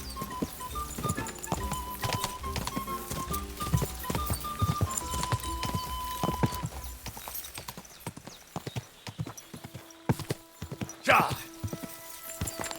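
Rapid, rhythmic hoofbeats of a horse galloping in the video game Kingdom Come Deliverance II, loud and close, then slowing, with a brief whinny and a rider speaking.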